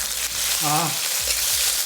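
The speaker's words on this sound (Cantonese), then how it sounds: "After 30 to 40 seconds of stir frying meat" Meat for Cantonese zha jiang mian sizzles steadily in a hot wok, a dense frying hiss with a brief tonal scrape partway through.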